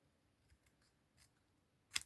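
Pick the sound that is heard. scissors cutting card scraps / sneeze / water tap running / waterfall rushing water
scissors cutting card scraps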